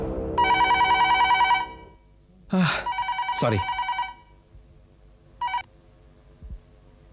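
A telephone rings in a Hindi TV suspense thriller, with two long electronic bursts and a short third one and quiet pauses between them. A brief spoken word comes near the end.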